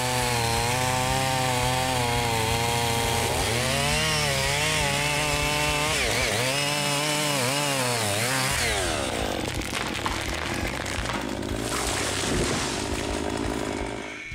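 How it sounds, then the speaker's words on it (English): Husqvarna chainsaw cutting through a large oak tree in a small forest, engine roaring loud and close throughout, its pitch dipping and rising repeatedly as the chain bogs into the wood and recovers. "Thanks to a great chainsaw, an amateur worker like him can easily defeat it"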